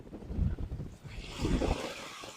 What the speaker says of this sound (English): We'll see how the mic works with this wind blowing, because it's really blowing today.